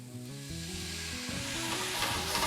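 Sake hits a hot pan with garlic and ginger to deglaze it, a sizzling hiss swelling louder over a couple of seconds beneath background music.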